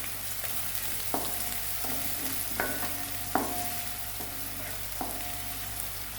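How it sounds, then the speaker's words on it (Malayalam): Onions sauté in a pan with a continuous hiss of frying oil, broken by regular clinks and scrapes of a spoon stirring against the metal, close and unaccompanied by speech. "ഇതൊന്ന് നന്നായിട്ട് വഴന്ന് വരട്ടെ"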